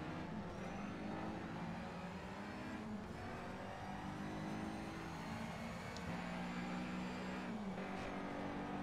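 A race car engine in Need for Speed Shift holds a high rev with gear shifts and changes in pitch, and a faint tire screech cuts in briefly, all fairly quiet and steady throughout.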